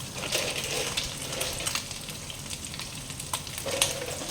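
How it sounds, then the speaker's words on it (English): A pot of water with rock sugar boils on the stove for Thai milk tea, giving a steady bubbling, sizzling hiss with faint clinks, alone and fairly close. "So I need to boil some water with rock sugar first."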